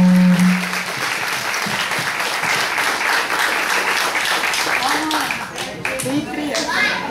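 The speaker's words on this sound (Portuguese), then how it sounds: "Palmas" An audience applauds after a nursery school play, 'O Pintinho Fujão', performed by toddlers. Steady, lively clapping fills the room for several seconds, with children's voices and adult chatter mixed in and a short tone at the start.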